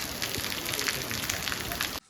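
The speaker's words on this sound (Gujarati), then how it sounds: "ગાઈસ વરસાદ આવી ગયો." Rain falls on a farm field as a steady, dense hiss of drops that holds for about two seconds and then stops abruptly.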